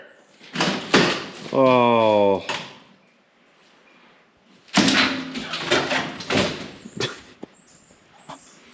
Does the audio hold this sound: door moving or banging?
yes